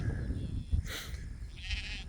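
Sheep in a field on a hot summer day bleat in two distinct calls, one near the middle and one toward the end, set over soft outdoor background noise with no talk.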